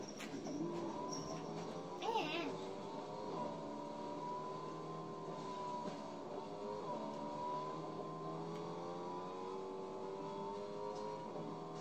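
Car in a video game driving away, a faint engine drone with rising and falling revs through gear changes, steady in the background for the whole stretch.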